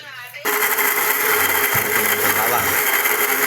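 After a brief moment of voices, a blender grinding garlic whirs on loudly and runs steadily, its motor grinding continuously.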